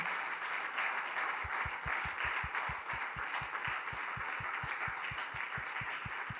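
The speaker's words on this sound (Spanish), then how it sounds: "Vamos a darle un fuerte aplauso al Señor, a su palabra." A church congregation applauds steadily, a dense wash of clapping at moderate volume with a regular low thump beating underneath throughout.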